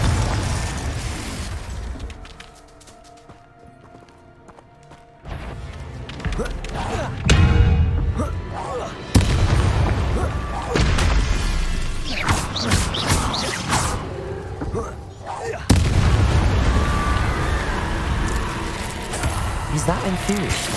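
Confringo blasting spells in Hogwarts Legacy bursting in repeated booming explosions with whooshes and crackling debris, loud and near, over game music, with a voice speaking at times.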